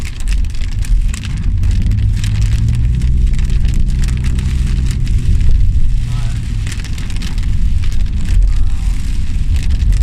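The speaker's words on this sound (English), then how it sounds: "because of the rain, I'm driving really slow" Steady rain drumming on a car during a slow morning commute, a dense continuous wash over low road and engine rumble, with someone talking over it at times.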